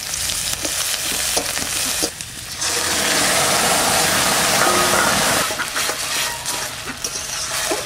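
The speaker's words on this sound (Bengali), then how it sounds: "সরষের তেল দিয়ে দিচ্ছি, রসুন," Garlic and onion frying in mustard oil for a tangy egg dish with nalte greens, a loud steady sizzle with a few stirring clicks, rising to a dense roar midway.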